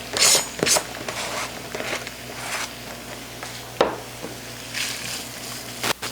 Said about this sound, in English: We're going to brown this with the pork sausage here and saute these onions up a little bit